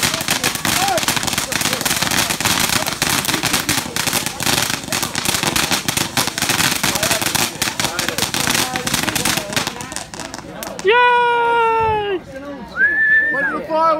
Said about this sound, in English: Let's watch the fireworks though.